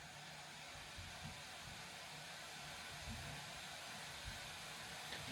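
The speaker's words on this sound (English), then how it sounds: "Now the fans are kicked up a little bit here in Cinebench, not in rage mode." Continuous airy whoosh of a 2024 Alienware m16 R2 laptop's cooling fans under a Cinebench load in normal performance mode, steady and fairly quiet, with faint low rumble beneath and no speech.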